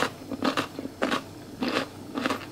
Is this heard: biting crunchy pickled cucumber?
yes